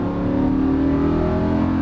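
A Lamborghini Huracan LP610-4 engine pulls under throttle on a track, a loud, steady, close-up drone with smooth rising tones and no talk over it.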